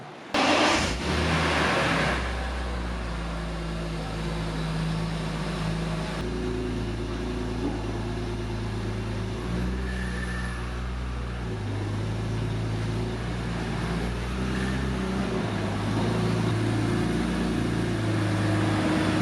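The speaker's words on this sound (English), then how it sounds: "I'm going to take this for a drive" A BMW M3 drives on the road, its engine a steady low drone with shifting revs and gear changes, heard from inside the car throughout.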